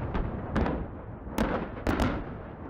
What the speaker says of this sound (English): largest explosion in the history of movies